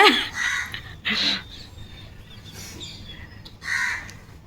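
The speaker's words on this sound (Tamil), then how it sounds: "காக்கா கத்துது" Crow cawing loudly outdoors during a home Ayyappa devotee garland ceremony, several harsh calls in separate bursts close by, with a quieter caw in between and faint background noise.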